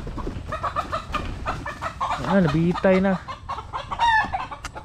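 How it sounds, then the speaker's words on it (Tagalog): Three fighting roosters at a rural home cluck and croon loudly up close while being fed, with a brief spoken word mixed in among the calls. "May tatlong manok pang sabong si Papa guys."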